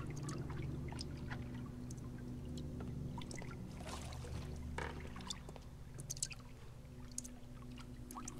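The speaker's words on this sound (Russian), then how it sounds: "Все капает, фи." Water drips in a quiet game scene from Sherlock Holmes: The Devil's Daughter, with scattered soft drops and trickles over a steady low hum.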